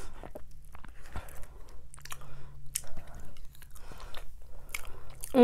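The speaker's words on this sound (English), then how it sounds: "Take one more bite of the mashed potatoes." Mashed potatoes with gravy being bitten and chewed up close, soft wet mouth sounds and a few sharper crunchy clicks spread across a few seconds, with faint background hum and no talking.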